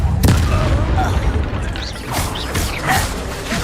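Confringo blasting spell in Hogwarts Legacy, a loud close boom with a sharp crack followed by crashing debris and whooshing bursts, layered under game music and ambient effects.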